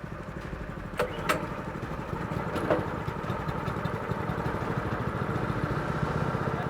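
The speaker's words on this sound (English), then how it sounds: "start your engines." Several go-kart engines starting up and idling at a race start, a steady buzzing motor drone running throughout with a couple of brief sharp revs near the beginning, fairly loud and continuous.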